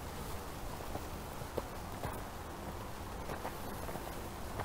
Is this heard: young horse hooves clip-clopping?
yes